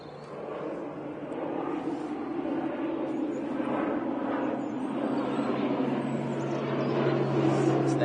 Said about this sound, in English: Yep, Aer Lingus, ATR 72, back to Belfast.